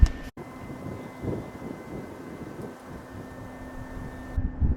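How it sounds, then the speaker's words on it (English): Strong wind buffets a microphone at an outdoor scenic overlook in Shenandoah River State Park, a continuous low rumbling roar with gusty swells and a brief dropout near the start. "The wind is really blowing out here"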